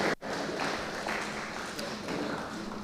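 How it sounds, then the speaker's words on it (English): A group in a meeting hall applauds the red group before their role play, with steady, moderately loud clapping that runs throughout and faint talk mixed in. "Can we have a round of applause for them?"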